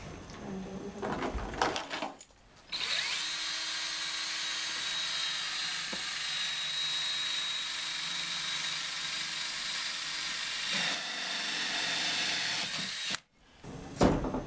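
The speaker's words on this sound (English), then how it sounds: "we're going to use a 1 3/4 hole saw bit to drill the hole" A long continuous whine of a 1 3/4 inch hole saw drilling into plastic, steady and loud for about ten seconds, with clatter before and after.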